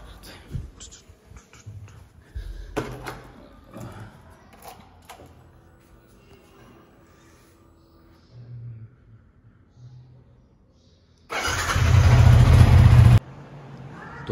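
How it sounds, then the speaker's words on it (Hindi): A motorcycle starting and warming up, with scattered clunks and short engine bursts before a loud, close burst of revving, with some talk in the background. "बाइक स्टार्ट करते हैं।"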